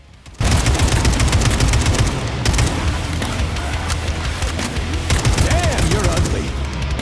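AK rifle gunfire in the shooter game Atomic Heart, loud rapid bursts of automatic fire that continue almost without pause, with faint game sounds mixed in.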